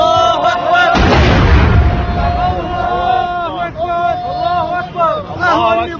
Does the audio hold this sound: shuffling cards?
no